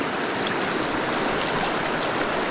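A river in a canyon rushes steadily past at close range, a dense, even wash of flowing water with no pauses and no voices.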